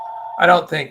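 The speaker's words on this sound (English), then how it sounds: "That is a phone ringing." A telephone rings with a steady electronic tone for a moment, then a voice begins talking over it.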